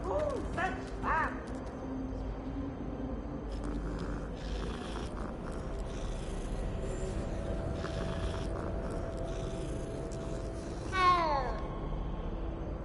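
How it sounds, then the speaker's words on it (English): Several cats meow in Hogwarts Legacy, a few short cries near the start and a louder rising meow near the end, over steady ambient game sound with voices talking. "So many cats."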